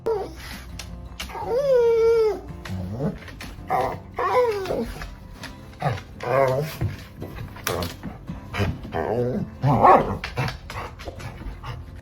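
A dog that is vocal and talkative barks, whines and pants close to the mic. It makes repeated yelps and pitched, howl-like vocalizations in uneven bursts that fill the whole stretch.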